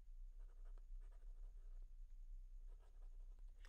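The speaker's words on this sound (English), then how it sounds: "let me write it down" A pen writing notes on paper during an electrostatics lesson, faint close scratching strokes in short irregular bursts over a steady low background hum, with no speech.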